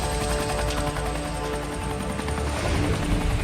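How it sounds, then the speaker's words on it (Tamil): A helicopter lifts off with a loud, steady roar of rotor and engine that stays close and constant throughout, with no voices. "ஹெலிகாப்டர் நிறுத்துறா"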